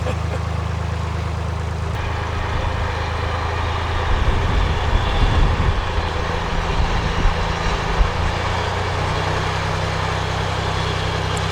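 A train passes near a canal with a low, steady rumble that swells in the middle and then eases, heard from a narrowboat with a continuous engine drone beneath it.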